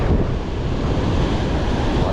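Heavy surf roars continuously, with strong wind buffeting the microphone and a deep, rumbling wash of breaking waves close by.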